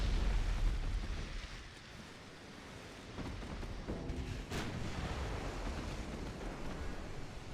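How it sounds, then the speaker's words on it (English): A torpedo detonates at sea in a naval warfare game, a deep rumbling roar of water and blast noise that swells, with a sharper burst of spray partway through, loud and sustained. "Got a torpedo detonation."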